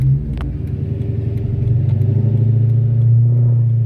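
A car engine rumbles deep and loud through its exhaust, holding a steady, throaty drone that swells slightly as it revs.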